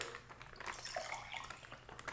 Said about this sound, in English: I'm gonna pour it in the glass